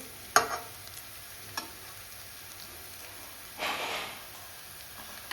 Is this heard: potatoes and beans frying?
yes